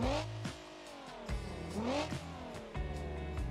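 A car in the BeamNG driving game runs on bare rims after losing its tires. Its engine revs up and down repeatedly, with sharp shifts in pitch and a gritty, scraping texture underneath. No one speaks over it.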